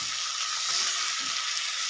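Capsicum being stirred in a frying pan of hot oil for chilli soya bean, a steady close hiss of frying with faint scraping of the spoon underneath, continuous and with no talking.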